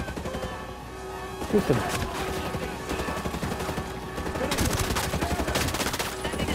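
Gunfire in the Ghost Recon Breakpoint video game during a night-vision firefight: bursts of shots crackle through a dense, busy battle mix, with a sharper cluster near the middle and heavier firing toward the end, while voices talk over it.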